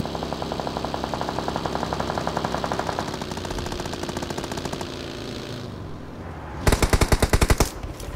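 Rapid automatic gunfire in a shooting video game fight, dense and continuous through the first several seconds, then a short pause before a loud, sharp burst of close shots near the end.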